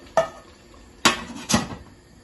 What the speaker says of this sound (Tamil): இப்போ நாங்கள் ஒடியல் மாவை போட்டுட்டு 2-3 தரம் கிண்டி விட்டுட்டு மூடியை போட்டு மூடி விடுவோம்.